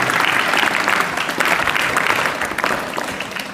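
An audience at a school assembly breaks into loud, sustained applause, many hands clapping close by, swelling and easing slightly before fading near the end.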